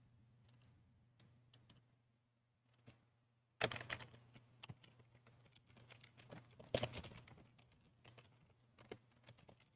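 Computer keyboard keys clatter in irregular bursts of typing, faint at first and then closer and busier with quick clicks and a few louder strikes, with no voices.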